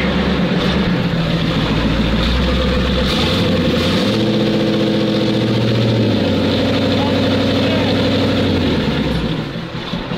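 A ZIL truck engine running loudly up close, a heavy low rumble whose pitch rises and falls as it revs, with someone talking over it throughout.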